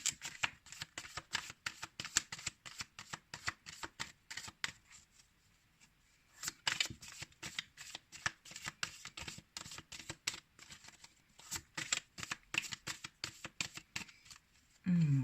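Tarot cards shuffled in rapid bursts of crisp riffling snaps close by, pausing briefly midway before resuming, with a voice speaking at times.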